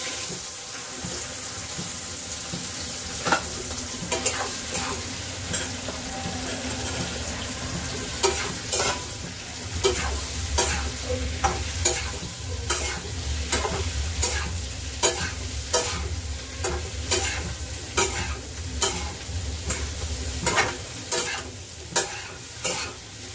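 Okra frying with turmeric in a pan, a steady sizzle broken by a long run of sharp, regular spatula scrapes and clinks from stirring, close and fairly loud.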